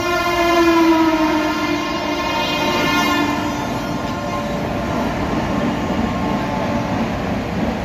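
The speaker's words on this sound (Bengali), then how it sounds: "মনে হয় বিকানের এক্সপ্রেস যাচ্ছে ওভারটেক করে।" The Bikaner Express rumbles past close by while overtaking on the Howrah–Purulia line. A continuous, loud roar of wheels and carriages carries a long sustained horn tone that fades slowly across the whole stretch.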